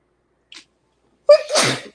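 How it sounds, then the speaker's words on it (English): A single loud sneeze bursts out with a sharp intake and noisy release, preceded by a small faint sound a moment earlier. "I don't know why I'm sneezing so much"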